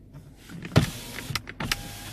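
Power window motor in a 2017 Kia Sorento gasoline model whirring in short bursts, with switch clicks and faint thumps as the windows stop, quiet and close inside the cabin.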